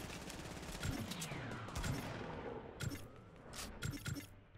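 Gunfire in the real-time strategy game Iron Harvest comes as a string of sharp shots and short bursts, fairly faint and spaced apart, with a metallic rattle and scraping between them.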